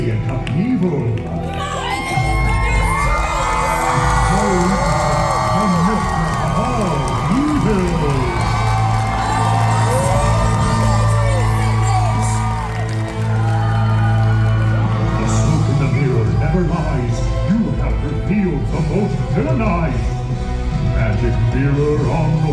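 A theme park audience at the Disney Villains: Unfairly Ever After show at Hollywood Studios, Walt Disney World shouts and cheers loudly and steadily under music, with whoops and children's shouts mixed in.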